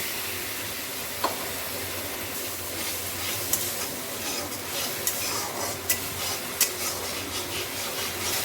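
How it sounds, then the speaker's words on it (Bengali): Ground spices, onions and water stir-fried in an oily pan for a koi fish curry, giving a constant bubbling sizzle with occasional sharp ladle taps and scrapes against the pan, close and steady. "খুব ভালো করে জল দিয়ে দিয়ে কষিয়ে নেব।"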